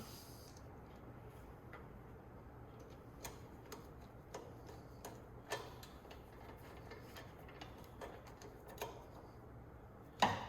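Faint, irregular clicks and ticks of a T15 Torx driver snugging screws on a Jeep Gladiator diesel build, spaced every second or so, with a sharper knock at the end; no talking.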